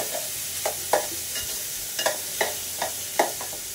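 Bitter gourd slices for karela bhaji sizzle steadily in hot oil, with a spoon or spatula scraping the pan in repeated sharp strokes at an irregular rhythm, close and fairly loud, no voices.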